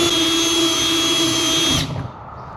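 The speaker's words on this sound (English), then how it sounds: "I'll drill a pilot hole in this" A power drill bores a pilot hole sized for 7/16 bolts in a homemade deer feeder, a loud steady whine running close and continuous before cutting off near the end.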